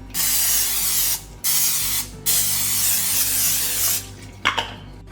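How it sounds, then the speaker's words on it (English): Several long hissing bursts of aerosol cooking spray into a foil-lined pan, each lasting a second or more, followed by a couple of short puffs, close and loud. "Then I'm gonna spray it with my cooking spray."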